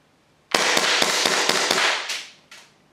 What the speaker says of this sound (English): I'm going to shoot all five BBs out rapidly